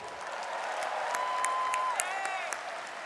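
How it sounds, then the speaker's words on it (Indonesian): Crowd applause at an Indonesian political rally, a sustained spread of clapping with some sharp individual claps, while a faint tonal whistle or feedback-like sound slides underneath. "Tepuk tangan untuk Bu Siti."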